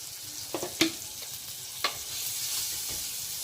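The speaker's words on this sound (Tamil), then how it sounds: "நல்லா கிண்டிக்கிட்டுங்க" Tomato and chili powder fry for a fish curry, a soft steady sizzle in the pan with a few spatula scrapes and clinks early on, close and fairly quiet.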